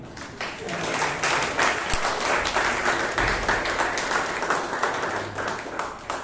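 Audience applause fills a Toastmasters meeting room in Bangalore, a steady, dense wash of clapping from many hands that holds at an even level throughout.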